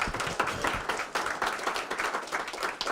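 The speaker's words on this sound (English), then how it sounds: "Please give them a round of applause for the breakfast and the venue." A breakfast audience at a West Virginia legislative preview event applauds the hosts, a dense, steady wash of many hands clapping, fairly close and continuous throughout.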